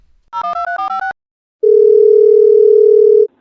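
A rapid series of touch-tone dialing beeps on a telephone, then a pause before a long, steady, loud tone rings out on the line and stops abruptly.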